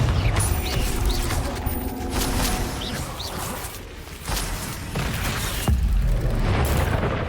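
Confringo fire spells explode in the Hogwarts Legacy video game on PS5, giving dense rumbling blasts and crashes layered over continuous game noise and effects, with no speech.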